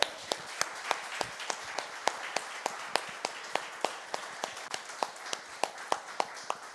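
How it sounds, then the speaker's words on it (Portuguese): A church congregation claps in a steady, even rhythm, with sharp beats about three per second. The clapping sounds unified, moderately loud and continuous. "Você pode aplaudir o Senhor?"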